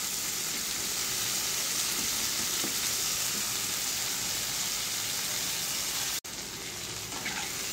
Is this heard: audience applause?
no